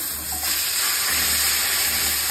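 Meat marinated beforehand sizzles in mustard oil in a wok, a loud, steady hiss that carries on without a break, close up with no talk.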